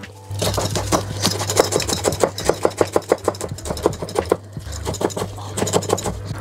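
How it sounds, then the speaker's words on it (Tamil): Knife finely chopping washed curry leaves on a board, rapid close rhythmic taps in two bursts with a short pause between, over a low steady hum. "கொஞ்சம் கருவேப்பிலை எடுத்துருக்கிறேன் அதையும் கழுவிட்டு நல்லா சின்னதாக கட் பண்ணுவோம்"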